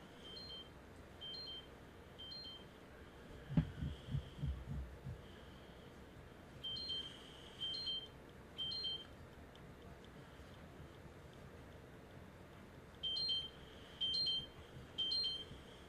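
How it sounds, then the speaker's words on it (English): Short electronic beeps repeat in brief clusters over a quiet background hum, spaced apart with pauses, fairly faint and close. "So now it's beeping again."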